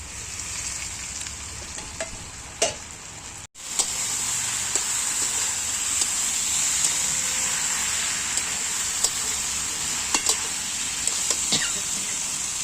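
Tomato added to a frying pan on a rooftop cooking setup, sizzling loudly and steadily throughout with occasional stirring clinks, briefly cut off near the start before resuming.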